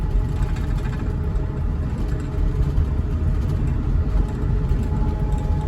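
Bus engine droning as the vehicle drives down the road at around 35 miles an hour, a steady low rumble with road noise heard from inside the cabin, continuous and fairly loud.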